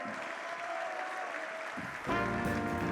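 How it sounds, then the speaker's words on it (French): Audience at an awards and performance event breaking into applause. Clapping starts moderate and swells sharply louder toward the end, with a voice briefly audible. "On peut les applaudir"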